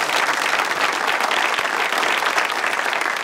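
Studio audience of a Turkish talk show applauding, a dense, loud, sustained wash of many hands clapping at once, close and unbroken throughout with no talking over it.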